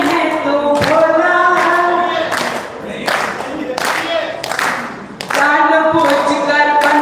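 Audience clapping at a Hindi poetry recital (kavi sammelan) in Singoli, bursts of applause rising and fading in waves, mixed with a reciting voice and crowd noise throughout.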